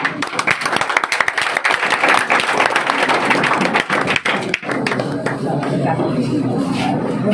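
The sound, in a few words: applause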